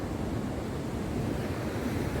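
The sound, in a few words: ocean waves at the beach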